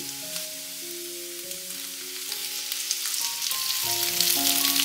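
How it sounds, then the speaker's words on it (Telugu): Cut okra pieces fry with onions and curry leaves in a pan, with a steady close sizzle and background music playing throughout. "ఉల్లిపాయలు ఈ విధంగా వేగిన తర్వాత దీనిలో కట్ చేసి పెట్టుకున్న బెండకాయ ముక్కలు వేసుకోవాలి"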